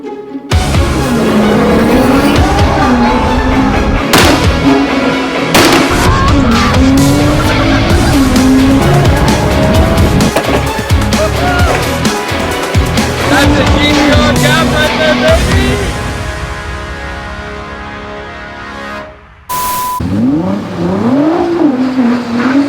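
An Audi R8 and a Nissan GT-R spin donuts in the snow, engines revving hard and tires squealing in loud, sustained bursts close by, with a brief lull near the end before the revving resumes.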